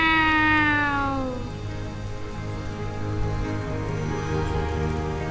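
Single drawn-out cat meow, clear and close, falling in pitch, followed by a steady patter of rain that continues alone afterward.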